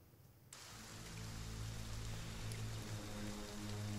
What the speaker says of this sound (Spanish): Lloviendo con aire.